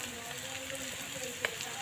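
Panch phoron spices crackle in hot oil as a faint, continuous sizzle close by, with one small sharp pop near the end.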